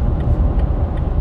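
A 2019 Toyota Tacoma pickup engine drones steadily with a low, rumbling hum as it downshifts after cresting a hill, loud and constant with no voices.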